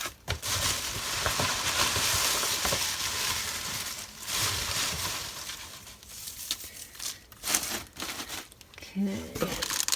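Crinkly paper craft packaging handled up close, bursts of crackling and rustling that come and go, with a person talking at times.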